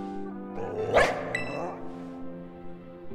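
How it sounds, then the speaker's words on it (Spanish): A dog barking in the Pokémon Purple video game: a short, loud yelp-like bark near the start amid game music, followed by a softer call. "Perro."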